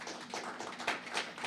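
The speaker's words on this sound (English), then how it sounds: "So let's give her a round of applause" A small seated audience at a Texas Legislature talk series applauds for a staff member's birthday, a brief burst of scattered, close clapping.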